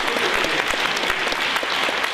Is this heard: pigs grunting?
no